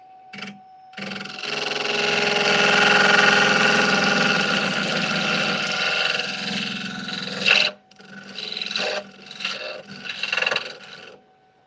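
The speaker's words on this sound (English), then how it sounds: "I'm going to use a carbide just around that one spot where the knots are" A carbide tool cuts a knotty wood piece on a spinning lathe, a loud rasping hum that swells, drops sharply, then returns in shorter uneven bursts over a steady motor drone.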